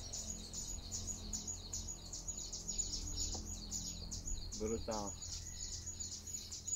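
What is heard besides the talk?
troquim bird singing in São Tomé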